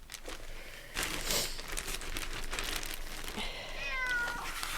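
A cat meows inside a podcast studio, one brief rising call near the end that rises over a steady rustling and crinkling background, fairly quiet and close.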